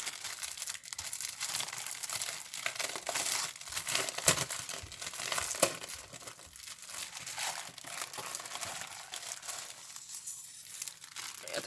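Paper wrapping from a parcel crinkles and rustles continuously as it is pulled open, close and fairly quiet, with a few sharper crackles and tearing bursts along the way.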